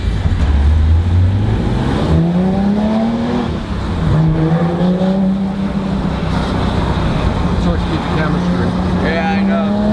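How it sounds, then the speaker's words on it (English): A Porsche 911R engine revs hard from inside the car, climbing in pitch, dropping at a gear shift, then rising again, loud and close, with voices talking over it. "that's nice when the gear shift is right when the engine opens up."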